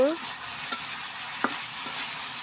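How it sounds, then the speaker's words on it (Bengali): Dried fish is stirred and fried in a pan for a potato and eggplant curry: a soft, steady sizzle with a few sharp scraping clicks from the spatula, nearby and without speech. "এখন আমি এখানে শুটকিগুলা দিয়ে দিব। ভালো করে একটু মিশিয়ে নিব।"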